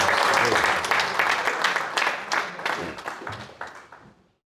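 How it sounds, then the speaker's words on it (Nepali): A church congregation at a house gathering claps loudly together in praise, a dense burst of applause that thins out and stops after a few seconds. "ताली बजाउँदै प्रभु यशुलाई महिमा"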